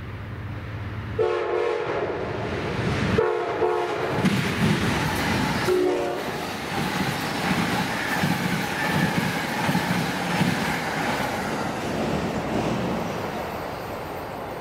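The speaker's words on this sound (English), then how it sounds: "Amtrak P092 with engine 189, the big game train on the lead." An Amtrak passenger train horn blares in three separate harmonic blasts over the steady roar and rumble of the passing train, loud and close.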